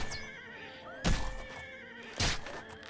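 A horse whinnies loudly in the fantasy video game Oblivion, with a heavy thump or hoof strike landing at the start of the neigh and another later, over a steady background music tone.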